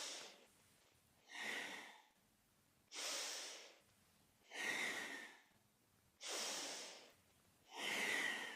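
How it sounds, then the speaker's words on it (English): Rhythmic nasal breathing during a kundalini yoga Sufi grind, five strong breath bursts about every one and a half seconds, close and clear, each with a sharp airy hiss, alternating with quiet gaps. "Inhaling forward and around, exhaling back and around."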